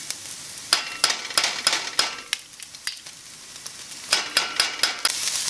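Garlic and tomato paste fry in a hot pan while a utensil stirs them, giving crisp sizzling with a run of sharp scraping strokes in an irregular rhythm, close and clear, with no talking.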